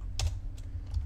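Keys clack on a computer keyboard in short bursts, a few quick taps clustered near the start and more spaced out later, close and fairly quiet over a low steady hum, with no talking.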